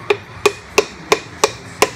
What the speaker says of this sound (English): See if you can tap it down in there. I hate using a handle, hammer handle, but nothing works better.